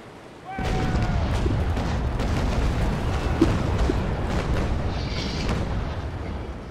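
A sailing warship's cannons fire in Naval Action, a sudden heavy boom opening into a long rumbling barrage of overlapping blasts and crackling impacts, loud and sustained, with a voice talking over it.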